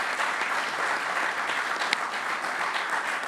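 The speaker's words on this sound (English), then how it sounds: "Let's give that round of applause for that." An audience applauds at a golf event at the Bethpage Black Course in New York: steady, dense clapping from a sizable crowd at moderate loudness, continuing evenly throughout with no voices.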